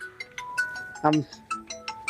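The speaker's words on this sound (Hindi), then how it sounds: "उठाओ ना फोन" A phone plays a melodic ringtone of short tonal bursts throughout a comic household scene, with people talking over it.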